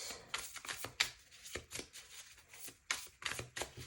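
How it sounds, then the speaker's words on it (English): Tarot cards are shuffled and pulled by hand in quick, papery riffles and slaps, fairly close and quiet, in bursts separated by short pauses, with no voices. "I'm going to pull some tarot cards and pull them over the palmistry cards"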